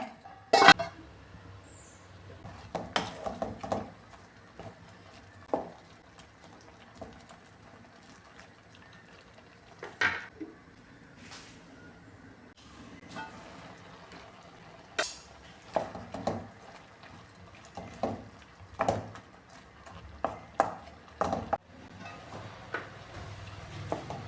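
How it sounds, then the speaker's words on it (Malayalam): A spoon stirs ivy gourd (kovakka) curry in a pot: sparse, quiet clinks and scrapes against the pot come at irregular intervals, with soft shuffling in between and no talk. "ഇനി ഇതൊന്ന് ഇളക്കി കൊടുക്കാം"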